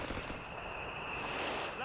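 An MG42 machine gun fires in a Company of Heroes 3 battle, its dense rattling bursts blending into continuous combat noise under a commentator's voice.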